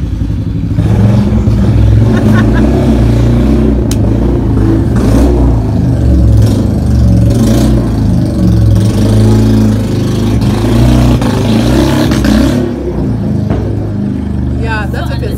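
A motorbike engine revs loud and close in a front yard, a continuous rough, throaty roar that swells and dips for the whole stretch, with voices faintly underneath.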